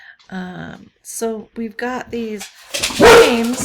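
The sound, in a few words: dog barking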